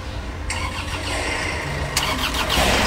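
An Isuzu Traga diesel pickup with a Euro 4 common-rail engine cranks and fires up, then settles into a steady, fairly loud idle, with a second louder surge near the end.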